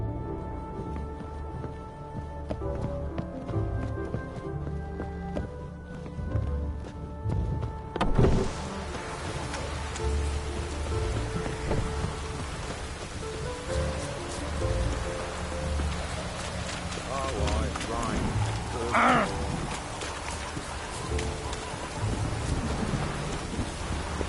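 Rain and thunder from The Witcher video game: steady hiss of rainfall with deep rolling rumbles, a sharper crack near the middle and another strike later, over a low layered drone.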